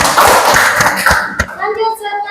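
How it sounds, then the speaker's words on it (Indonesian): Classroom applause during an Islamic education teaching-practice lesson: a brief burst of close hand clapping from pupils, fading after about a second and a half as children's voices chatter on. "berikan tepuk tangan"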